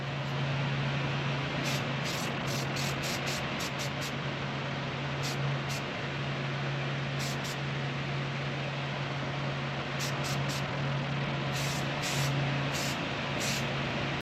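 Spray can of self-etch primer coating a custom alternator mount, a continuous close hiss of aerosol spray running throughout with a steady background hum and faint chirps.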